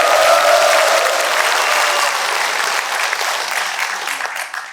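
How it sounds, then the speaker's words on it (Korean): Sustained, loud applause from a large audience at a rural basic income alliance launch ceremony, following the opening speech by a National Assembly member; dense clapping fills the space and tapers slightly toward the end, with no talk. "개회사를 해주신 신정은 의원님께 다시 한번 큰 박수 부탁드립니다."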